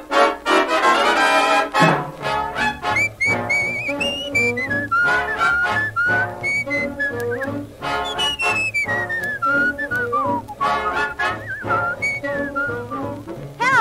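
A person whistles a bright, bouncy tune for about fourteen seconds, the melody sliding and trilling over steady musical accompaniment, close and clear with no talking.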